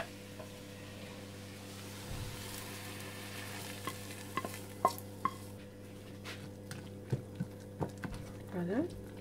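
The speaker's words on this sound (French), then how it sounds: "là je vais mélanger l'oignon" Onion is stirred into sauce for a Turkish-style cauliflower gratin, with soft scraping and sizzling and intermittent clinks of a utensil against the pan over a steady low hum.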